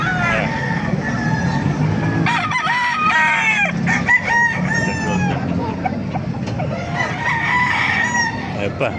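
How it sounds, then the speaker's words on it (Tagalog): Chickens and roosters at a poultry market in Baliuag, Bulacan: several overlapping crows and clucks ring out continuously, some near and loud, others farther off, with faint voices talking underneath. "Ganda ng mga manok, oh."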